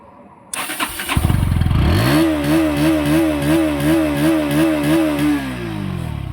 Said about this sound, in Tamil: இதான் வண்டியோட எக்ஸாஸ்ட் நோட்டு